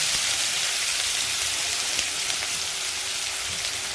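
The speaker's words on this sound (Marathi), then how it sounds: "जिरे तडतडले आहे, आता त्यामध्ये मी बारीक केलेला कांदा टाकते" Finely chopped onion hits hot oil in a kadhai where cumin seeds have already crackled, producing a loud, dense, continuous sizzle like heavy rain, with no voices over it.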